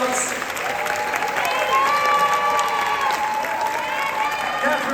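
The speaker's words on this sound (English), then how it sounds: "Give them a huge BroadwayCon round of applause." A theatre crowd at BroadwayCon 2022's Star to Be contest applauds steadily as the contestants are brought out, a dense, sustained wash of clapping with some cheering and a faint tonal backing throughout.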